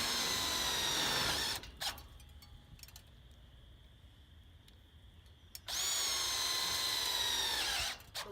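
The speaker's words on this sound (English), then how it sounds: "I'm just going to go ahead and set a couple tech screws to set this length now" A power drill drives tech screws into an adjustable side purlin on a hoop house, whining loudly in two bursts separated by a quiet pause.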